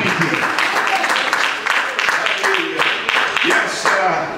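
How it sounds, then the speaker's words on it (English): A church congregation at a district meeting night claps in a loose, rhythmic pattern of repeated hand claps, with voices calling out over it. "Give the Lord a hand clap, brother."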